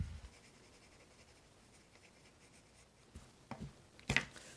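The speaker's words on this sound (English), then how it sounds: "So I just folded it up so I got like a corner of it. And I can use that to blend." Folded toilet paper rubbed over a pencil drawing to blend shading, a faint soft papery scratching throughout with a few sharper brushing strokes near the end.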